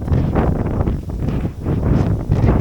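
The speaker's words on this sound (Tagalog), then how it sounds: "At lumalakas na yung hangin dito" Strong wind on a coastal road in Dingalan, Aurora, Philippines buffets and roars in uneven gusts, rising and falling, loud and close with rough blustery noise.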